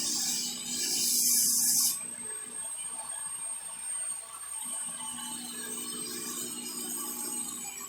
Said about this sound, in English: I just went and got my electric drill.